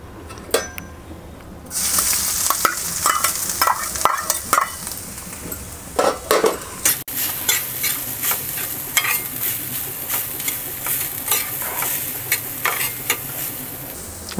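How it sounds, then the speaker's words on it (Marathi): Grated coconut sizzles in ghee in a pan on a gas stove, with a steady frying hiss and repeated scraping stirs of a spoon against the metal, close and continuous without talking. "त्यात आता 2 चमचे मी तूप घालते. त्यात आपण नारळ घालूया."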